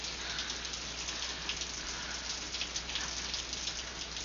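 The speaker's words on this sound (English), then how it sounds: "it's pouring rain outside" Steady pouring rain falls outside a house at night as an old TV plays indoors in a horror film scene, a soft, even hiss of dense raindrops that continues unbroken without any talking.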